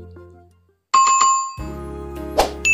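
Notification bell sound effect: a few soft chime taps, then a bright ringing bell tone that sustains and decays, followed by a short sparkle near the end, clean and close with no voice.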